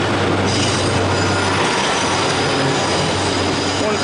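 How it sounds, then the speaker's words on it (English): A train rumbles steadily past at close range as it leaves Manchester Piccadilly station, with wheels squealing and a continuous loud rolling roar throughout. "Meanwhile, the Alderley Edge train is leaving."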